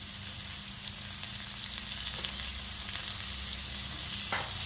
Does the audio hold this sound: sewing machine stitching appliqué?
no